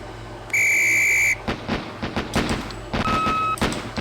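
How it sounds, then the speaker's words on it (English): In the police tactical video game Police Quest SWAT, a loud, sharp whistle blast is followed by a quick series of gunshots, then a second shorter whistle tone amid more shots. "On the whistle."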